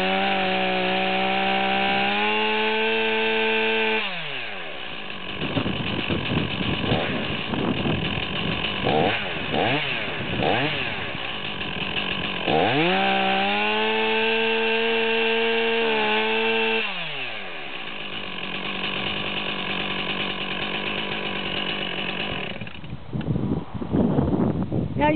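A Stihl MS461 chainsaw screams at its rev limiter, bouncing and stuttering at high pitch, then bogs into a rough rasping roar while cutting wood before revving up again, loud and near throughout.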